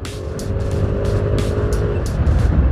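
Yamaha Nmax 155 scooter engine while riding, a steady droning motor under rushing wind and road noise, with brief bursts of rustle on top, no talk.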